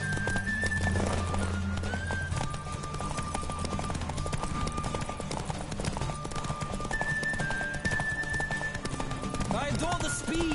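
Horse galloping in The Witcher 3: Wild Hunt, steady rapid clip-clop hoofbeats running throughout with occasional whinnies, under a game soundtrack and a voice.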